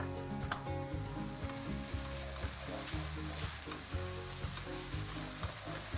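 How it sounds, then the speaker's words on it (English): Spices sizzle and are stirred in a hot pan, with turmeric and ground cloves stirred through for a lentil curry; a steady close frying hiss runs throughout with soft rhythmic scraping, and there is no talk. "Give this a good stir."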